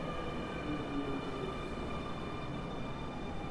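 A subway train rumbles steadily at close range, with a low, even roar and faint high tonal whines running throughout; no voices.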